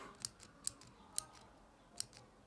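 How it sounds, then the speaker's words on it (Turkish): The mechanism of a Simplesample Thin pen is clicked open, giving four faint, sharp, dry clicks spaced unevenly over a quiet background, with no talking. "Yani şöyle tükenmez kalem gibi açıyorsun. Kalem açılıyor."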